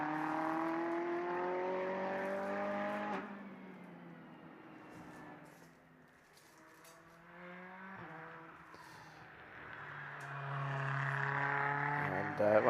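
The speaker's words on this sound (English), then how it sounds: "that Ferrari still sounds good when it lifts off the throttle and you get the turbo spool and whistle" Ferrari GT race car in a four-hour endurance race at Mugello lifting off the throttle, engine note falling away with turbo spool and whistle, then building again, loud and close, with a voice talking over it.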